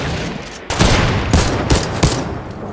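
Bursts of gunfire from a multiplayer battle royale video game, several loud shots cracking in quick succession over a steady background of game ambience.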